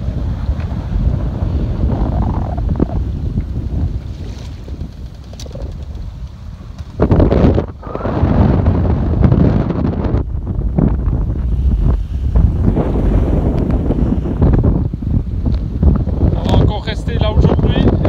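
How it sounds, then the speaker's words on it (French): Strong wind gusts buffet a sailboat off Chios, Greece, as a loud, constant roar and rumble pounding the microphone, with a sudden heavier burst midway. "il y a des bonnes rafales"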